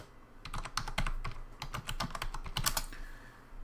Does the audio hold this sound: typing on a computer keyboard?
yes